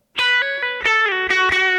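An electric guitar plays through a profiled 1967 Fender Pro Reverb amp, a few loud, clear picked notes and chords that ring and change in quick succession, close and alone.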